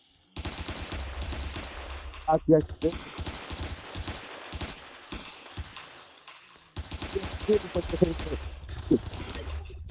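Rapid bursts of Roblox gunfire, bursts of automatic shots under people talking, with a lull midway.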